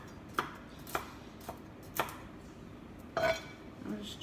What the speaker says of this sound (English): I'm just chopping the walnuts into manageable sizes